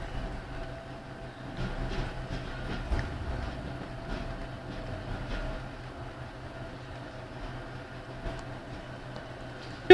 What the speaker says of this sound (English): First time in a tram car.